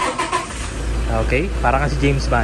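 A Toyota Hilux engine is started remotely and settles into a low, steady idle hum, running close by beneath ongoing conversation.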